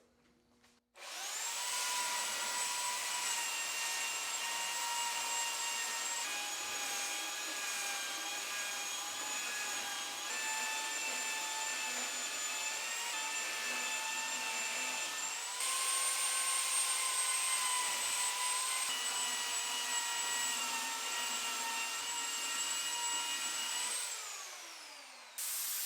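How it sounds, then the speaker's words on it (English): A Black & Decker belt sander working over a wooden bedroom door, a steady, sustained whine and roar running nearly unbroken for the full stretch before winding down at the end. "I'm using a Black & Decker belt sander."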